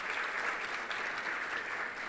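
A crowd at a State of the City address applauds a county commissioner with sustained, even clapping from many hands, heard at a distance and fairly soft throughout.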